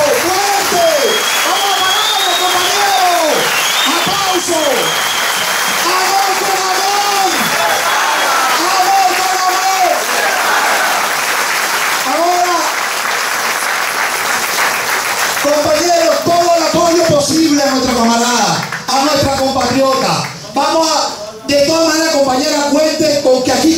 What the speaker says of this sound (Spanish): ¡Fuerte un aplauso!